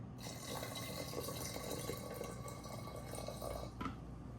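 Water is poured into a nut milk maker, two cups of it, giving a steady continuous trickling and filling sound throughout, close and moderately quiet, with no talking.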